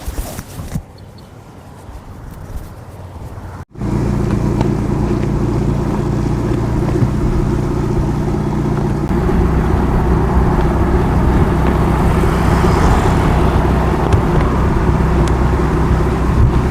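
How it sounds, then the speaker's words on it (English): Motorbike taxi moving through busy street traffic in Da Nang, Vietnam: after a brief quiet stretch a loud, steady engine and road roar sets in and stays close for the rest of the clip. "You see him coming onto the street and crossing over with no respect for traffic."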